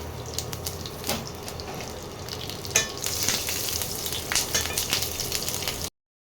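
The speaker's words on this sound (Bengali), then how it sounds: "এবারে এই তেলের মধ্যে দেব কালো জিরে, সামান্য কালো জিরে, আর কাঁচা লঙ্কা" Nigella seeds and slit green chillies fry in hot mustard oil for a tangra fish curry, giving a steady close sizzle and crackle with a few sharp pops and stirring scrapes, then a sudden cut to silence.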